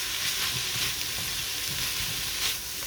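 Ground pork fries in oil in a pan with ginger, onion and garlic, giving a steady, hissing sizzle heard close up, with occasional soft stirring bumps and no talking.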